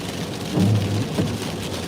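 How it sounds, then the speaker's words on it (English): Heavy downpour of rain in the Roanoke Valley, a steady dense roar of falling water with a few louder low rumbling swells, close and continuous with no voices. "I just got off of work, and it's downpouring rain."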